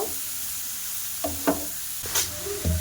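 Grated carrot stirred in a hot pan with cinnamon pieces, a low continuous sizzle broken by a few scraping knocks of the spoon against the pan, close and alone.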